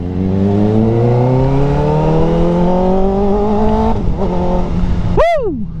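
A motorcycle engine revs steadily up to 16,000 rpm, climbing in pitch to a loud, strained scream, then drops off abruptly, followed by a brief swooping whine.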